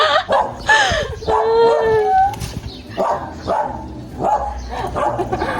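A dog gives a run of barks and howling, yelping cries, close and loud, mixed with people talking nearby.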